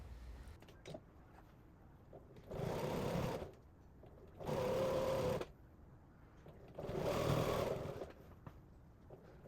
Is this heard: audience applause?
no